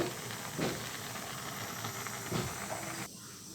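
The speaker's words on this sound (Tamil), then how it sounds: "இது நல்லா கொதிச்சிட்ருக்குது" Payasam bubbling in a pot on the stove, a steady hissing, steaming simmer with two soft bubbling swells before the sound drops away near the end.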